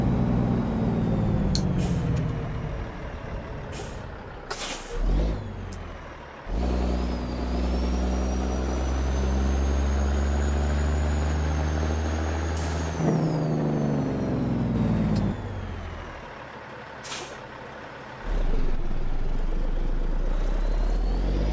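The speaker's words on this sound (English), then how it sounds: "Turn your Jake brake off, dummy." Heavy truck engine in a truck driving video game, a loud low diesel rumble with a Jake brake's rapid throbbing drone, air-brake hisses and gear changes, with brief drops and surges in engine load.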